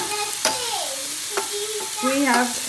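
Bacon fries and sizzles in a pan with a steady crackling hiss, broken by a few sharp clinks and stirring scrapes, heard close up with no talk.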